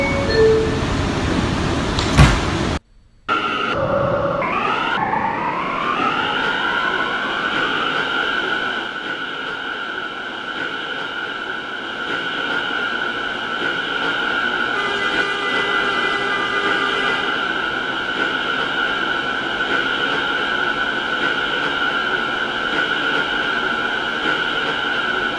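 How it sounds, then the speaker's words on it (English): An R179 A express subway train runs steadily in a Roblox game, with a loud, constant motor hum and rising whine after a brief door-closing thump and pause near the start, continuing evenly throughout with no talk. "This is a Manhattan-bound A express train."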